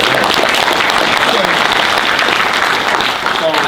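Crowd applause at a jewelry trade show interview, loud continuous clapping from many people close by, with cheering voices mixed into the steady roar.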